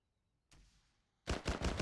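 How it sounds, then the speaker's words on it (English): Gunfire in a multiplayer military game: a short muffled burst, a pause, then a loud, close volley of rapid repeated shots with no talk. "They're shooting at us"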